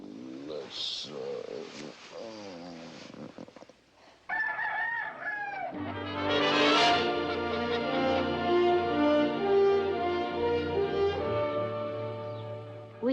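Leghorn hens and a rooster on a small farm: a flurry of clucks and squawks, then a loud, sustained crow rising over steady low droning, close and prominent throughout.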